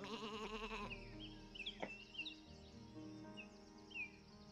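A sheep in a video game bleats in a loud, wavering cry at the start, followed by faint bird calls and scattered chirps over a quiet background.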